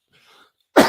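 A smoker gives a single sharp, loud cough right at the end, preceded by a faint breathy throat sound.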